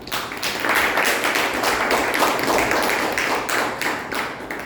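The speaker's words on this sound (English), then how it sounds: "With a huge round of applause, please welcome Toastmaster Mayank." Sustained round of applause from a meeting audience at a Toastmasters club gathering, dense hand claps running steadily throughout without speech, moderately loud and close.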